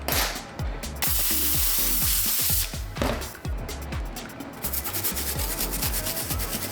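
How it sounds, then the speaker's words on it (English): A small detail bristle brush scrubs into grooves during a restoration, making rapid rhythmic scratchy strokes, close and loud, with brief pauses between bursts. "Now I'm using the detail bristle brush to get into these grooves that I couldn't quite hit with the steamer or my original stiff bristle brush"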